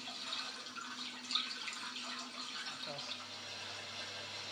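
Soft water sound effect from a floating lilies motion projection app, a gentle continuous trickle and drip, faint and steady throughout.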